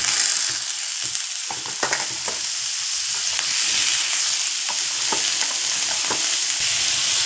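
Cut potatoes frying in hot oil on a tawa give a steady, close sizzle throughout, with scattered clicks and the scrape of stirring rising above the crackle.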